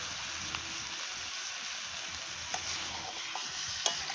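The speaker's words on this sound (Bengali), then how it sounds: "এবার সমস্ত মশলার সাথে চিকেনটাকে খুব সুন্দর করে একটু কষিয়ে নিতে হবে।" Chicken, a kilogram of country chicken, being stirred and fried with spices in a pan, giving a steady close sizzle with occasional soft scrapes of the spoon.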